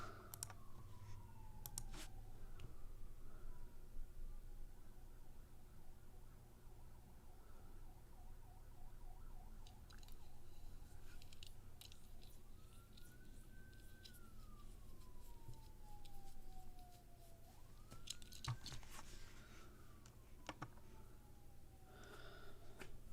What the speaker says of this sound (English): I'm hearing sirens. They're closing in.